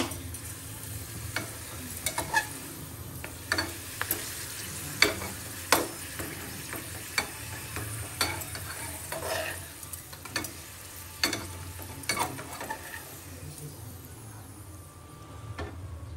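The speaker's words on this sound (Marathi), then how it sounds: "तर मी पापड तळते आणि मग भेटते. खूप गरम झालेलं आहे. आपण हा पापड तळूया मोठा." A large papad deep-fries in very hot oil with a soft bubbling sizzle, punctuated by sharp intermittent clacks and scrapes of a utensil against the pan, heard close up without talk.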